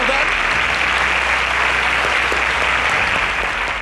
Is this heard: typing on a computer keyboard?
no